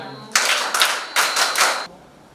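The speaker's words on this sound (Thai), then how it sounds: "ถ้าพร้อมขอเสียงปรบมือห้าครั้ง" A group of students at a school arts camp claps together in unison, five quick crisp claps grouped into two bursts, close and fairly loud, then silence.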